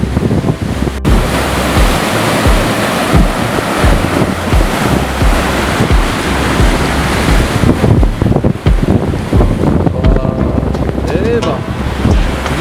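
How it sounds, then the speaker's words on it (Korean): Ocean waves crash and roar continuously at a seaside water park on Jeju Island, with strong wind rushing across the microphone; a voice is briefly heard beneath the surf. "몇 미터짜리 파도가 치는지 모르겠는데"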